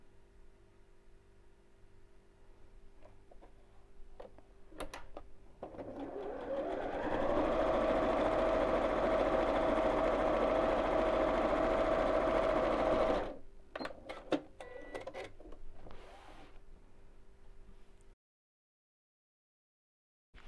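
A sewing machine stitching scrap fabric for a quilt block runs in one steady, loud whirring burst of about six seconds, preceded and followed by quieter handling clicks and fabric rustling.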